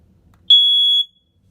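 A 1998 Kidde 0915 smoke alarm gives one short, loud, piercing electronic beep lasting about half a second, close and clear against near silence.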